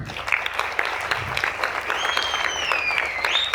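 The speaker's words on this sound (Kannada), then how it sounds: "ಅವರಿಗೊಂದು ದೊಡ್ಡ ಚಪ್ಪಾಳೆ" An audience at a Kannada stage play claps steadily throughout, a dense patter of many hands at moderate distance, with a faint high whistle rising over it toward the end.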